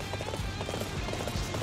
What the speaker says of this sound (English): Where's my horse? There's my horse.